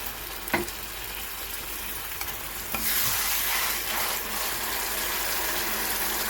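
Mustard paste and spice masala frying in oil for a tilapia curry, a steady close sizzle that swells louder after a few seconds, with a couple of brief stirring knocks and scrapes and no talking.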